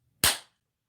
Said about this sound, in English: They hear that slap all the way up down the block